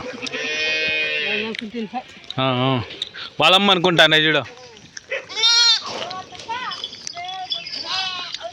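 Sheep, goats and young kids bleat and call repeatedly on a sheep farm, several loud overlapping cries close by, with people talking in between.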